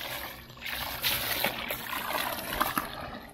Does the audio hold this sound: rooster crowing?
no